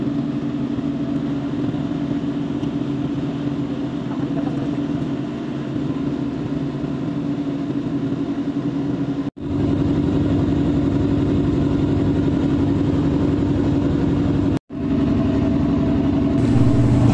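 A passenger boat's engine drones on the open sea between Zamboanga and Basilan, a loud, steady, close hum that runs without a break except for two abrupt momentary cuts.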